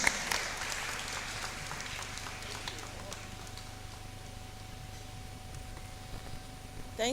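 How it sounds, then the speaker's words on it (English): Audience applause rises to welcome a keynote speaker at the launch of an education campaign in Ghana: a steady, fairly quiet wash of many hands clapping that holds through the whole stretch. "with a round of applause, let's welcome Professor Nana Ama Brown Kluche to give us the keynote address"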